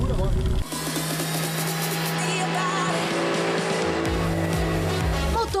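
A small car with a 1.0-litre three-cylinder engine is driven fast on a track, its engine droning loud and steady with shifting pitch and a dip near the start, heard from close by with faint voices underneath.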